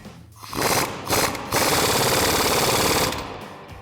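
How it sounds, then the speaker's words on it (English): An impact wrench fitted with a 19mm socket rattles hard while compressing a lowering spring in a clamshell spring compressor on a 2016-2024 Camaro, coming in three loud bursts, the last a sustained hammering run of about a second and a half. "Gonna go ahead and grab our impact with our 19mm socket on it."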